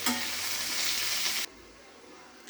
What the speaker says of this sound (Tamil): மஷ்ரூமை வந்து போட்டுட்டு நல்லா அது வந்து வேகிற வரைக்கும் வந்து வதக்கி விட்ருங்க